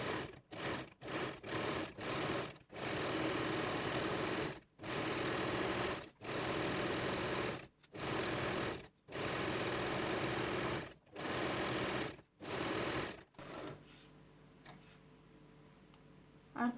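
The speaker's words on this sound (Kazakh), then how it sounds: "Енді ирек тігісті немесе оверлок тігісті машинамен тігіп шығамыз." Domestic sewing machine running a zigzag or overlock stitch along the inside edge of a fabric headscarf, loud steady motor bursts of one to two seconds broken by short pauses, then stopping into quiet room noise.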